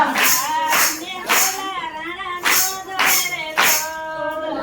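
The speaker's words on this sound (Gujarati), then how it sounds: "હાથ જો તાળી પાડો હરિના નામની રે" A devotional satsang group sings a bhajan while hands clap in a regular rhythm beneath the voices, the claps sharp and close.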